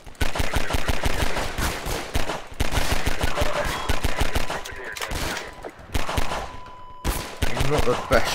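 Enemy gunfire in Half-Life 2 in City 17: loud, rapid bursts of automatic shots crackle almost without pause, with brief gaps between volleys.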